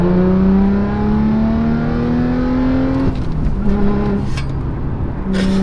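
A powerful Dodge Hellcat engine drones steadily as it accelerates, pitch climbing smoothly, then shifts and settles with some clicks and rattles inside the cabin.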